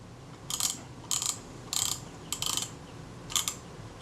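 The shutter-cocking mechanism of a Bessamatic M camera moves in five short bursts of close, quiet mechanical clicking and ratcheting, separated by brief pauses.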